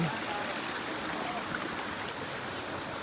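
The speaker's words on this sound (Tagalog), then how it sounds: "Ayan na yung falls!" Kawa Falls pours steadily as a broad, continuous rush of falling water, heard close and loud throughout with no break or other sound standing out.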